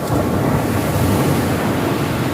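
Strong wind roars steadily against the microphone, a dense, rumbling rush of air with no pauses and no voices, strong enough to keep blowing out a flame as it is lit.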